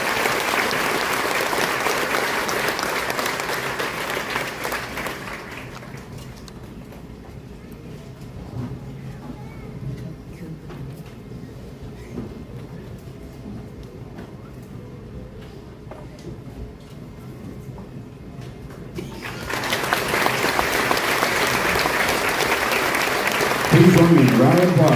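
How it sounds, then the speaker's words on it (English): An audience at a ceremony for retiring US Army soldiers and their families breaks into loud, sustained applause that fades out, and a second burst of clapping rises near the end. "Please join me in a round of applause for our retirees and their families"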